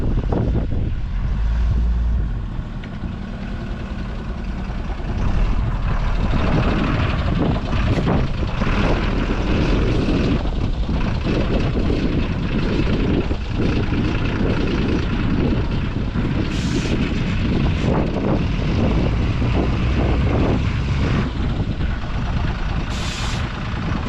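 A heavy diesel engine of a CAT D3 dozer chugs loudly and continuously like a hit-and-miss engine, its uneven, pulsing rumble dominating the whole stretch on a construction site, without any talk.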